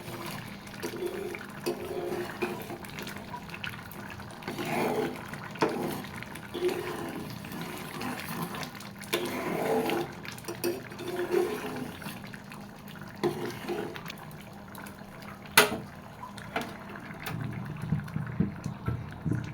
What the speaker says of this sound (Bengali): ডালটা খুব সুন্দর মতো ফুট ফুটতেছে